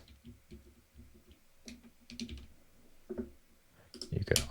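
Quiet clicking of keys on a computer keyboard in short, uneven bursts, with a soft voice talking over part of it.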